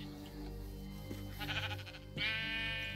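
Sheep bleating in the video game Minecraft, a few drawn-out wavering bleats close by, the last one loud and harmonically rich, over a steady low background hum.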